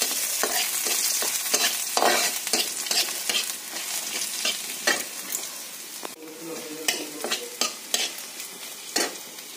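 Chopped garlic and black cumin seeds fry in oil in a pan, a steady loud sizzle broken by repeated scraping strokes of a stirring spoon throughout, with no talking.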